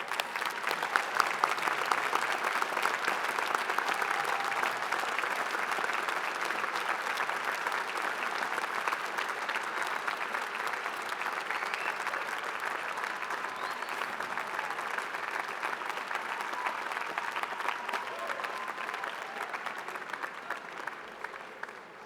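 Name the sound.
commencement audience applause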